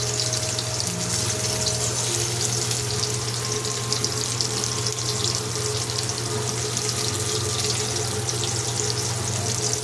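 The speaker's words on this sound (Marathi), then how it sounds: "त्याला थोडं हलकं गरम करून घेऊया आपण थोडंसं तेल घालून परत" Fried sponge gourd fritters sizzle as they are reheated in a little oil, a steady, continuous hiss and crackle close by with no talking.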